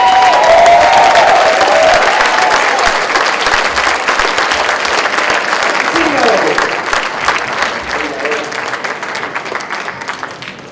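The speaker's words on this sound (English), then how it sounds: "Just give me a big round of applause for the Trump Latinos." A live crowd at a Trump Latinos event breaks into loud, dense applause with scattered cheers, strong at first and slowly thinning over about ten seconds, with some voices mixed in.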